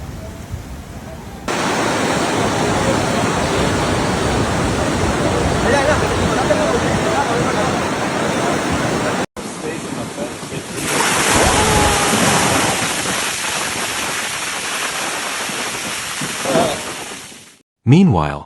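Large storm waves from Tropical Storm Cristina pound the coast at San Juan del Sur, Nicaragua, a loud continuous roar of surf with wind buffeting, briefly cut midway and fading toward the end.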